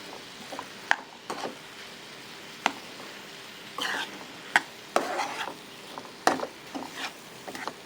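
Vegetables stirred and mixed in a pan while cooking, heard as scattered scraping and tapping strokes at an irregular pace over a faint, quiet background.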